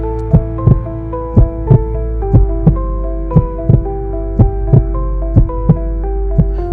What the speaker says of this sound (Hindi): आपका दिल तेजी से धड़कने लगेगा